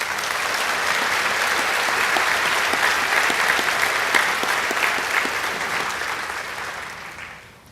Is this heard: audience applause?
yes